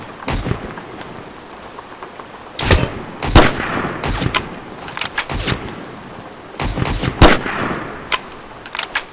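Sparse bolt-action rifle shots in the video game Road to Vostok, loud single cracks spaced seconds apart with pauses for reloading, set against a steady patter of rain.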